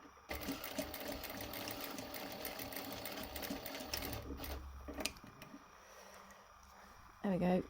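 Sewing machine stitching an unlined patch pocket, a steady close mechanical whir running for about seven seconds, broken by a short louder burst near the end, with faint talking underneath.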